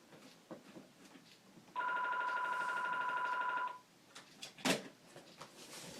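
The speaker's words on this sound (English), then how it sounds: "My phone's going off." A mobile phone rings for about two seconds in steady repeating electronic tones, fairly loud over a quiet room, then cuts off abruptly, followed by faint handling noises.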